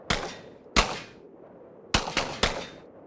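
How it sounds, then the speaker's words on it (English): Five sharp video-game gunshots ring out in two bursts, two spaced shots then three in quick succession, fired at a rope; each crack is loud and close with a short decaying tail, no talk. "I'm gonna shoot the rope and break free."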